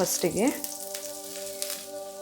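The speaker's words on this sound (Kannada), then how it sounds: "ಸಾಸಿವೆ ಸಿಡಿದಾಗ ಪಟ ಅಂತ ಸಿಡಿದಾದ್ಮೇಲೆ ನಾವು ಮಿಕ್ಸಿ ಮಾಡಿರೋದನ್ನ ಹಾಕಬೇಕು" Mustard seeds sizzle and crackle in hot oil in a home kitchen, a faint steady hiss with light pops, while a voice briefly sounds at the start.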